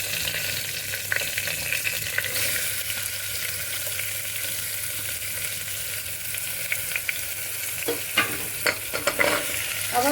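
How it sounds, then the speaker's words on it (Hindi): Onion and turnip sizzle steadily in a hot pan, with scraping stirs and clinks of a spoon growing more frequent toward the end; close and alone, no voices. "अब हमें शलगम को बिल्कुल हल्का सा, जैसे पिंकिश सा कलर आने लगता है, तब तक भूनना है।"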